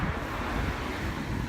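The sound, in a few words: wind blowing outdoors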